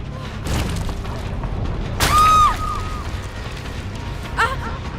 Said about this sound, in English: how did he get a flashbang already?